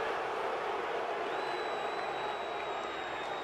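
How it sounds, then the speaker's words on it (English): Disapproving baseball crowd at Fenway Park in a baseball video game, a dense, steady roar of many voices with a thin whistle-like tone drifting above it, continuous and fairly loud throughout. "Crowd doesn't like it."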